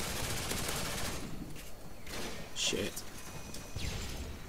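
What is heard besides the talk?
gunfire and RPG explosion in video game Modern Warfare 2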